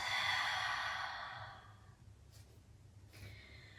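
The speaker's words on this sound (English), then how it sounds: "Deep, full inhales. Deep, full exhales." A deep, audible exhale during vigorous vinyasa yoga breathing, a long, breathy rush of air that fades out, followed by a couple of softer breaths against quiet room tone.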